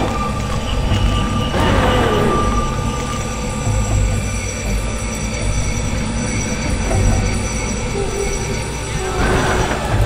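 A train rumbles in the shooter game Blood Fresh Supply amid loud, dense, continuous game noise, with steady clattering and roaring throughout.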